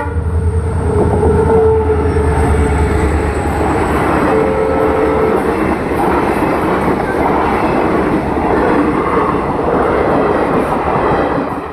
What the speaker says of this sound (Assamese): তো এতিয়া ৰেল আহিব,